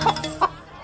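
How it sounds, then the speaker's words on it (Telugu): A chicken gives two short, close clucks a moment apart, followed by quiet. "ఇక్కడెక్కడో కోడి సౌండ్ అనిపిస్తుంది"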